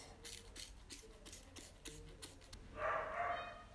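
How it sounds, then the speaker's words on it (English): Several dogs bark in short, sharp bursts somewhere in the background of a quiet indoor room, faint and irregular, followed by a brief higher yip or whine. "Please ignore the sound of the dogs."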